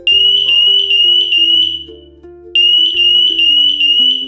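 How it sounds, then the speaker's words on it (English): A smoke detector alarm sounds a loud, piercing high-pitched beep in rapid repeated bursts, pausing briefly before resuming, with a low electronic tone pattern underneath. "A loud, intermittent sound synchronized with a red light? That means real danger, like a gas leak, carbon monoxide, or smoke."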